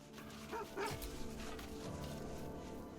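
Dog barking in the video game Baldur's Gate 3, a couple of short, soft barks and a yip early on, faint and mixed into a steady wash of game ambience and music.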